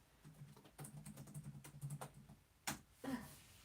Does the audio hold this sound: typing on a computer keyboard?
yes